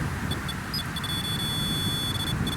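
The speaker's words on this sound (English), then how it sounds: "Oh, it's already beeping." A ghost-hunting device beeps in short high electronic tones, then holds a steady tone, at a historic log cabin and cemetery, with a low rumbling background of handling or vehicle noise.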